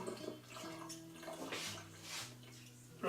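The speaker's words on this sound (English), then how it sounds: "Rinse the sterilising solution off the outside of the airlock." A plastic homebrew airlock for mead being rinsed under a running tap, sterilising solution washed off its outside; a steady close stream of water splashing and gurgling for about three seconds, no talk.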